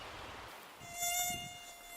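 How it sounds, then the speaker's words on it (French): Many mosquitoes whining in a steady high-pitched drone, swelling louder as one passes close, outdoors on a small island, with no voices. "Il y a beaucoup de moustiques."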